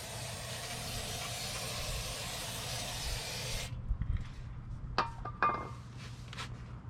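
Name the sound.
brake cleaner spray hissing onto backing plate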